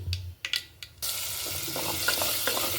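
Tomato and onion paste dropped into a pan of fried mustard seeds, a few soft clinks and scrapes first, then a sudden loud, steady sizzle that keeps hissing, close and without speech.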